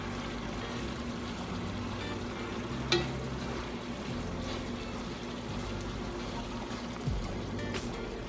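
Chicken fries in Worcestershire sauce, letting it cook down sticky, giving a steady close sizzle with a few soft clicks and stirring knocks, heard alone without talk.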